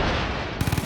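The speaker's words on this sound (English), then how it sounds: "Explosion going off in the storefront." Heavy blast from a charge detonating in a storefront during a team shooter match, a dense roaring burst followed by a quick series of deep thumps, loud and close.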